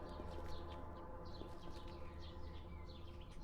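Faint repeated bird chirps in the video game Cataclysm: Dark Days Ahead, short tweets scattered over a steady low ambient hum, quiet and somewhat distant.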